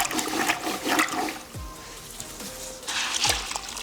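A cloth being scrubbed in a bucket of water while cleaning a car interior, giving wet sloshing and splashing that comes in two bursts, fairly close.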